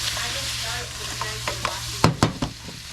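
Peeled, tail-off shrimp sizzle as they fry in a pot, a steady hiss with stirring clatter and a few loud scrapes near the end, with no talk over it.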